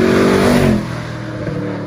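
A Mercedes C63 AMG Black Series revs hard close by, its engine roaring loudly for under a second and then dropping to a lower rumble as it pulls away. No voices are heard.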